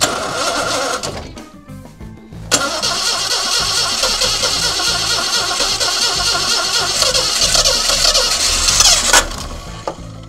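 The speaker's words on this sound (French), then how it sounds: "je vais démarrer depuis ici directement et voir ce que ça donne" A Citroën SM engine, fitted with a 123Ignition electronic ignition, cranks briefly and then catches. It runs loud and steady at close range for the rest of the clip, with no talking.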